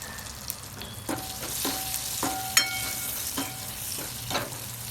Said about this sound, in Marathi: कांदा परतून घ्यायचा चांगला